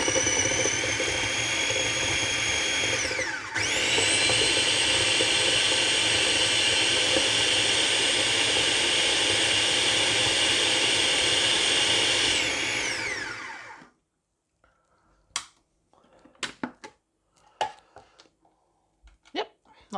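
A food processor chops frozen tomatoes, its blades spinning in a loud, steady whir for about thirteen seconds before cutting off abruptly, leaving a few faint clicks and knocks afterward.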